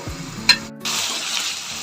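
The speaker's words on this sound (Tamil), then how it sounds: "நம்ம போட்ட கறி வந்து நல்லா ஒரு தடவை ஃப்ரை ஆகிடுச்சு" Mutton curry meat fries in a hot pan, giving a steady close sizzle with a brief clatter of stirring partway through.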